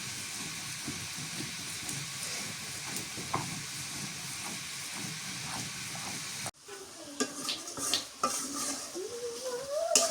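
Spices sizzle and get stirred in hot oil for a fish curry, a steady frying hiss with scraping of a spoon against the pot, then a more broken stretch of clatter and bubbling near the end.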